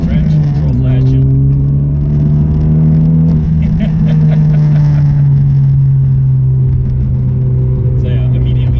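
A 2019 Honda Civic Type R (FK8) in sport mode, its engine droning steadily with a low, sustained hum and a rise in pitch partway through, loud and continuous from the cabin under occasional talk.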